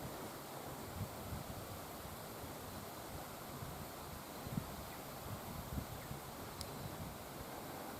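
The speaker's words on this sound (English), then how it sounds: "There's the river going on down around the bend." A river rushing around a bend at a storm-damaged campsite after a cyclone, a constant broad hiss of flowing water heard from a distance, steady and fairly faint with no voices.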